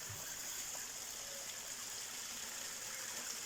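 Water flows down a small outdoor cascade in a steady, even hiss and rush that holds unbroken throughout, fairly close, with no voices.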